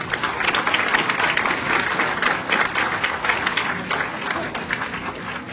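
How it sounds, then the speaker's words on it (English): A crowd at a ribbon-cutting ceremony for an LGBT seniors center applauds in sustained, dense clapping that stays loud throughout before easing slightly at the end. "they really deserve a round of applause"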